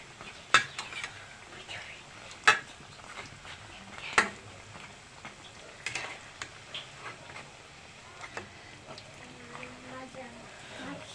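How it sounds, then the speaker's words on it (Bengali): Pakoras frying in fish oil, with a soft sizzle under sharp metallic clinks of a utensil against the pan at spaced intervals, close by, while a person talks over it. "আমি এখন পাকোড়াগুলো সুন্দর করে ভেজে নেব"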